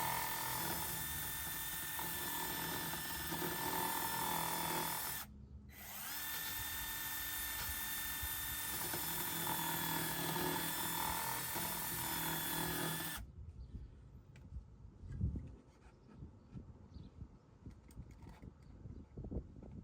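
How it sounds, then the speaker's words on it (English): A narrow belt sander whines loudly and steadily as it cleans rough plastic bits from a cut-out, stopping briefly partway through. Near the end it halts, leaving quieter scraping and handling noises. "Using the narrow belt sander to clean up any rough plastic bits left behind."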